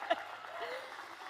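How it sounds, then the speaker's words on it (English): Crowd at a Las Vegas political rally applauding, a steady wash of clapping and faint cheering at moderate, distant level with a brief louder burst near the start. "Let's applaud our first-time voters and our young leaders."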